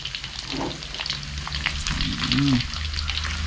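Pork belly frying in hot oil with fish sauce, a dense close sizzle with scattered sharp spattering pops from the oil throughout, a faint clink of a utensil partway through.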